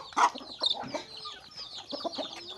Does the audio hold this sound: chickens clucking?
yes